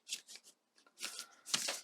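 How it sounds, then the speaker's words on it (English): A Sisters of the Sea tarot deck is shuffled overhand, giving several quick, soft, close papery riffles and slaps that come in uneven bursts, with short pauses between them. "Let me show you how this deck shuffles in the overhand."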